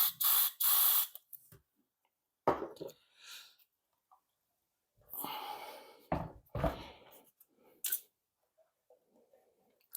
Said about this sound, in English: Alright, contact cleaner.